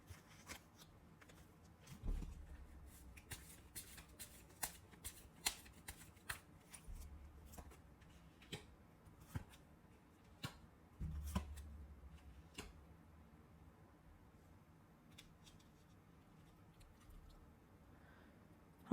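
Tarot cards handled quietly at close range: soft riffling shuffles and scattered small snaps and taps as cards are drawn and laid down, with two brief low rumbles of handling and no talking.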